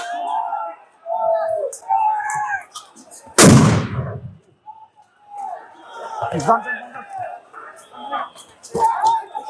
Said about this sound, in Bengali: এই মুহূর্তে একটি সাউন্ড গ্রেনেড আবারও ফাটানো হলো।